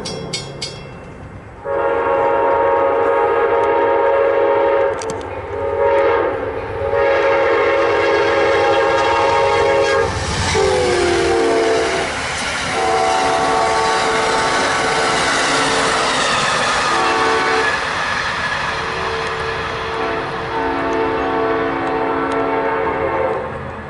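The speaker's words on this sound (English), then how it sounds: "And there we go, the AMTRAK 89 southbound." Amtrak 89 passenger train passing southbound, a long loud horn blast opening over rumbling wheels and rail noise that stays close and steady for most of the pass, no voices.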